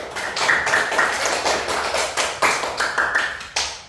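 Classroom participants clap their hands in a quick burst, with sharp, close claps in a rough rhythm that continues for a few seconds and then stops.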